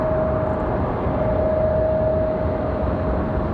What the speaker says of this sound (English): No, another United. This one an A319, I believe.